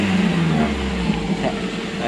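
Mercedes G200 off-roader engine rumbles steadily at idle and low revs, a loud close drone that runs the whole time while someone talks over it.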